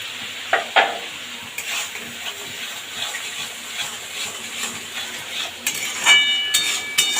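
Spiced masala with onion sizzling in a pan for hilsa dopiaza, stirred with a spatula that scrapes and clacks against the metal at intervals over a steady, fairly loud frying hiss.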